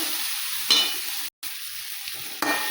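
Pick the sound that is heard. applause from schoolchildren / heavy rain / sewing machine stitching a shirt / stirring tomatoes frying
stirring tomatoes frying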